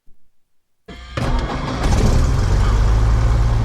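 A carbureted light aircraft piston engine cranks and catches at a small municipal airport, rising abruptly from silence into a loud, steady low roar that builds and holds close to the microphone.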